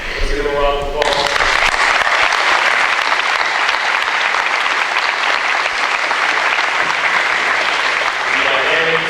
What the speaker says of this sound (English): Many thanks to the 282nd Army Band. Let's give them a round of applause.